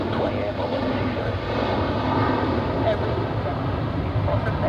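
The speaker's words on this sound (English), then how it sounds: "The Iceland Air 757 in the Vatnajökull special livery." Icelandair Boeing 757 airliner in special livery at Zurich Airport, its jet engines producing a loud, steady broadband roar that holds throughout at close range, with faint talk mixed underneath.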